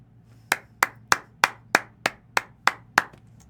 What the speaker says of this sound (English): The slow, solitary clap.